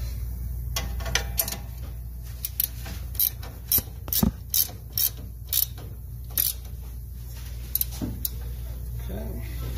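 Ratchet tightening the parking brake on a Spartan zero turn mower, a run of sharp metallic clicks in quick bursts over a low steady hum, close and clear.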